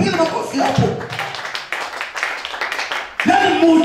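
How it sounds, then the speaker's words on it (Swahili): A church congregation claps hands during a Swahili sermon, the rapid clapping running underneath a preacher's loud, continuous voice. "Bila shangaa, piga makofi hapo."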